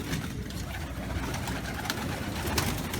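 Domestic pigeons coo steadily inside a loft, a dense, continuous murmur of many birds close by with soft rustling throughout and no talking.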